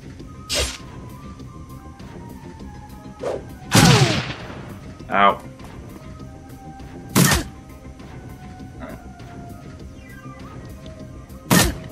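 Shotgun blasts in the game Shadowrun Dragonfall, several sharp, loud shots spaced a few seconds apart over a low steady game background, with a smaller thud between them.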